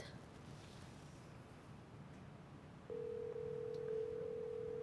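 Over a quiet room hush, a steady electronic ringing tone comes through a telephone partway in and holds unbroken to the end as the call goes unanswered.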